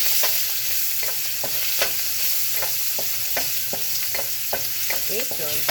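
Steady sizzling of baked tomato and garlic frying in oil, with repeated scrapes and clicks of a utensil stirring the pan.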